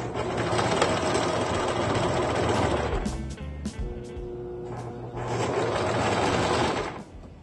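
A sewing machine stitches a medical style mask on a quarter-inch seam, running in two loud, steady bursts with a brief slower, stop-and-start stretch between them; no one talks.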